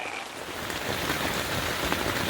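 Heavy monsoon rain drumming steadily on a camping tent in the dead of night, a dense, continuous close-up patter with no gaps or voices.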